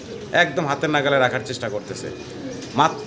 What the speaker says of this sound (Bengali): আসলে দর্শক আপনারা ককার ডাক শুনতে পাচ্ছেন